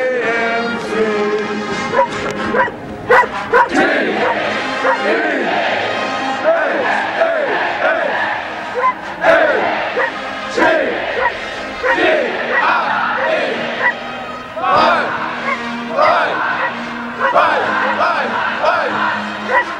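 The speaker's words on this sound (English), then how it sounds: "future Aggies cheer them on" A loud crowd of Texas A&M football fans cheers and yells in a stadium, a dense, continuous roar with whoops and shouts rising and falling throughout.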